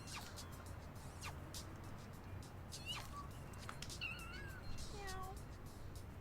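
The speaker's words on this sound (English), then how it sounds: "Travis keeps saying meow, keeps saying like weird meows." A cat meows repeatedly in the action game No More Heroes, a series of short, high, wavering mews scattered over a steady low background hum, fairly quiet and with no talk over them.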